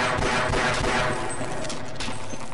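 Enemy gunfire hitting the player in the first-person shooter Half-Life, a dense continuous rattle of rapid automatic shots with crackling impacts, loud and close, lasting the whole moment with no voices.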